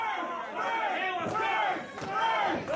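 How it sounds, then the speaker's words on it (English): Crowd at an independent wrestling event cheering and shouting, a loud sustained roar with rising and falling swells of voices and a few sharp impacts. "Crowd rallying behind."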